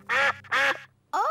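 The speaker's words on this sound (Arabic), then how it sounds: "أوه، إنهم البط." Cartoon ducks quack in a children's animated show set in a garden: two loud, drawn-out quacks close together, a short pause, then a third quack, with a faint low hum underneath and no talking.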